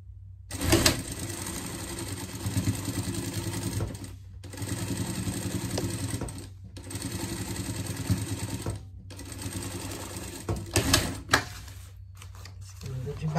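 A sewing machine stitching a denim pet vest runs in several long bursts, each ending in a short pause, close and steady.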